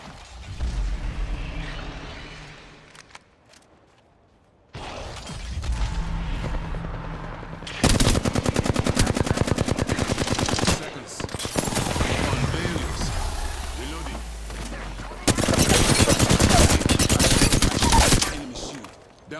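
Rapid bursts of automatic gunfire and heavy shots from the Apex Legends battle royale shooter, loud and near, in dense sustained volleys with brief lulls between exchanges.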